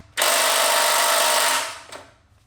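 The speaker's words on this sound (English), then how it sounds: "I don't know if I can get my drill to that one." A power drill runs on the rear motor mount of a corroded Evo 9 front subframe, making one loud, steady whir of about a second and a half that cuts off, then a short faint blip.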